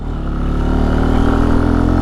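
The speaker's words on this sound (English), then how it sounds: "Bike sounds nice." A 2021 Benelli TNT 135 small motorcycle engine runs steadily up close, a loud, even mechanical thrum with a slight rise in intensity, no voices over it.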